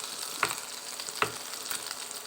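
Mashed potatoes tipped into a hot pan of frying spices sizzle softly and steadily at close range, with two sharp clatters of a spoon against the pan.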